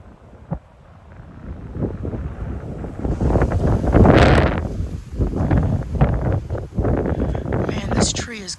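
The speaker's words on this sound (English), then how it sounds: "That was like a 40-mile-an-hour gust." Strong wind gusts of about 40 miles an hour tearing through trees in Plano, Texas, rising into a loud roaring surge and buffeting the microphone, with someone talking over it.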